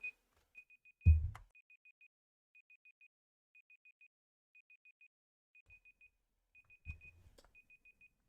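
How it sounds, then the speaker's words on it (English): Repeated electronic beeps, short triple pulses at a steady interval, sound faintly through a quiet room during a coding stream, with a couple of louder thumps between them. "Why is there a beeping sound?"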